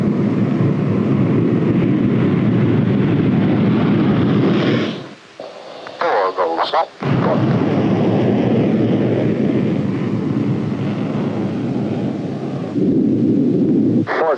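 USAF Thunderbirds jets at takeoff thrust give a loud, continuous broadband roar that drops out briefly midway, then surges back and holds steady, dominating with no talk over it.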